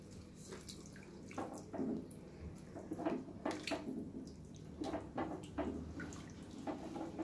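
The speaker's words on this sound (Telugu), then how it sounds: "ఇప్పుడు మూత తీసి వాటర్ పోసుకుందాం." Water pours and splashes into a pan of drumstick, egg and tomato curry in uneven gushes and drips, close and moderately loud, with no one speaking.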